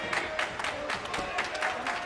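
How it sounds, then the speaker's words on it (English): A wrestling crowd in the Impact Zone arena cheering and clapping, a dense steady roar of many voices and applause at a moderate distance, continuing throughout at an even level with voices rising and falling inside the noise. "Fans of the Impact Zone trying to cheer on BG James"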